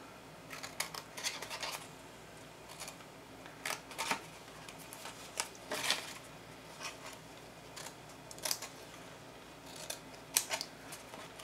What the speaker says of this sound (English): So I have a tab here, go ahead and cut a little piece off the sides.